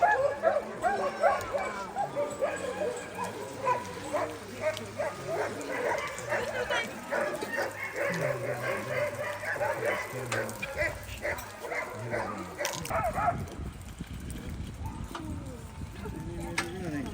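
Pack of sled dogs in Denali National Park, Alaska, barking and yipping excitedly in a dense, continuous chorus while being hooked up before a run, close and loud, dropping away near the end as the team sets off.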